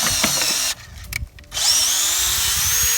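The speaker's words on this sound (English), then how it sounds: "Drill in at an angle." Power drill boring an angled tap hole 1.5 inches into a maple tree trunk outdoors: a loud, high motor whine that drops out briefly mid-way, then spins back up steadily.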